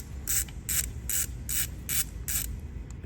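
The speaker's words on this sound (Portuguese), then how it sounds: "Vem com a catraquinha chave 10, a de boca 10." A 10 mm ratchet wrench loosens an ignition coil nut on a VW/Audi TSI engine: six evenly spaced bursts of sharp ratcheting clicks, close and crisp, over a low steady background hum.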